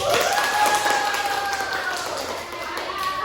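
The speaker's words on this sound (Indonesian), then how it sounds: "Tepuk tangan dulu." Classroom students clapping together after a lesson, a fairly loud burst of mixed claps and taps with a thin sustained tone running underneath and some voices mixed in.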